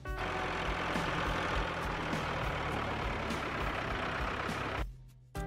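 A steady, loud tractor engine drone rumbles continuously for about five seconds before cutting off abruptly, heard alone in a children's cartoon of vehicle names and sounds.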